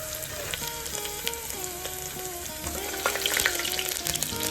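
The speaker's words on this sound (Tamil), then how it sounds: "அந்த பூண்டு 3 பல்லு பூண்டு சின்னதாக கட் பண்ணி வச்சிருக்கேன், அது போட்டுக்கிறேன். அது போட்டுட்டு கொஞ்சம் நல்லா வதங்கணும்." Three cloves of finely chopped garlic sauté in a pan for a banana stem koottu, a soft continuous sizzle running beneath melodic background music.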